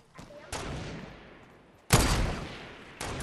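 Gunfire in a video game: three loud, sharp bursts of shots. Each one cuts in suddenly and fades out slowly, with short gaps between them.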